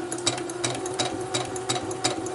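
A sewing machine stitches quilt pieces with a steady motor whir and regular rhythmic clacks of the needle, close and moderately loud, with no talk.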